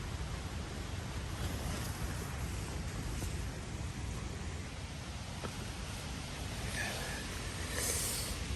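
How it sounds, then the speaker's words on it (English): Large ocean surf pounding the shore during a winter storm at a camp, a steady loud wash of breaking waves blended with wind, with a couple of brighter crashes near the end. "I can hear the surf. It's pretty big now."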